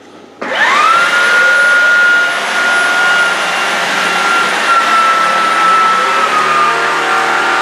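A Shark Detect Pro cordless vacuum cleaner switches on and ramps up into turbo mode, a loud, high whine, holding a steady powerful roar with a sharp tonal hum.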